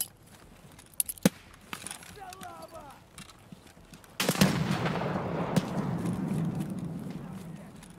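Shotgun fire in Escape from Tarkov, a sudden loud blast around four seconds in that leaves a long rumbling tail, with a few sharper distant cracks earlier over quiet ambient noise.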